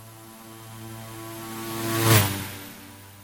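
A Beechcraft B1900D turboprop in a flight simulator game gives a steady droning engine hum with buzzing overtones. The sound swells louder for a moment about two-thirds of the way through, then eases back, with no voices.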